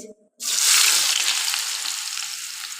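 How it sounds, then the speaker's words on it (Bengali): Onions dropped into hot oil in a wok give a sudden loud sizzle after a brief quiet moment, then a steady hissing fry that holds on with no talk. "এখানে আমি যে এই তেল ঢেলে নিয়েছি কড়াইতে হ্যাঁ তো এখানে আমি দিয়ে দিচ্ছি পেঁয়াজ"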